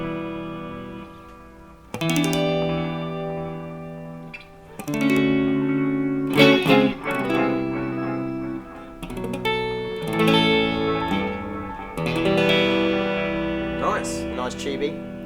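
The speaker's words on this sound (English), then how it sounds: "we've got the tube echo mode, so let's try that one" Electric guitar through a Mooer Reecho Pro delay and looper pedal set to tube echo mode, clean strummed chords and single notes ringing out with warm repeating echoes trailing behind each phrase.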